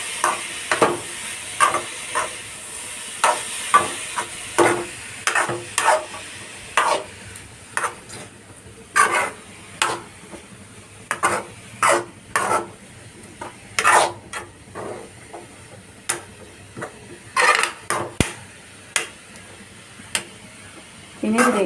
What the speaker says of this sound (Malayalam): നന്നായിട്ട് ഇളക്കി കൊടുക്കാം കേട്ടോ.